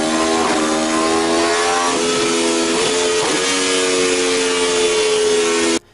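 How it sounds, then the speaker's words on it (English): A 217-horsepower RSV4 superbike engine held at a high, loud, buzzing rev from close by. It keeps a steady snarling pitch with slight wavers, then cuts off abruptly at the end. "Let's get a sound check of what the RSV4 sounds like."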